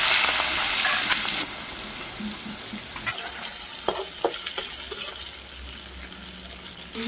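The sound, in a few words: shrimp frying in hot white oil in a wok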